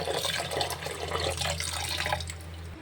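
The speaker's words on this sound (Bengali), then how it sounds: "এরকম করে অনেকবার করে সুন্দর করে ধুয়ে নিয়ে সুন্দর করে ধুতে হবে" Running tap water splashes over gandhal leaves being washed in a sink. The stream is steady and close, with a constant low hum underneath and no talking.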